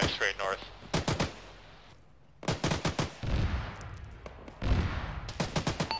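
Bursts of rifle and automatic gunfire in the Arma military simulation, clustered rapid shots in several volleys separated by short quiet gaps, loud and close.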